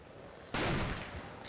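A single loud rifle shot in the WWII shooter Red Orchestra: Ostfront 41-45, a sharp blast that cuts in suddenly and rings out into a long decaying tail, with a brief faint crack near the end.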